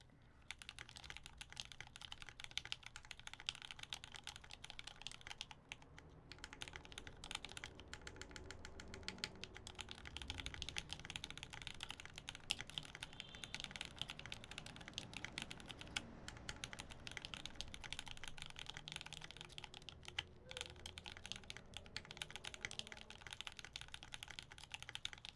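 Steady typing on a budget mechanical keyboard build, a quick continuous patter of keystrokes running for the whole stretch at even volume, close and fairly quiet, with no voices.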